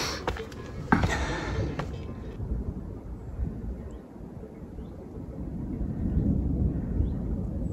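Thunder from a mountain thunderstorm in the Pyrenees: a low, distant rumble that swells toward the end, with wind noise and a few sharp handling knocks early on.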